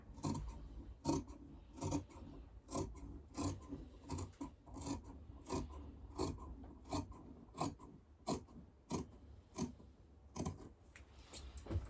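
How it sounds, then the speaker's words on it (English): Scissors cut through sweatshirt fabric in a quiet, close series of crisp snips, each closing with a short rasping chop at an irregular, unhurried pace, with no voices. "Cut along here."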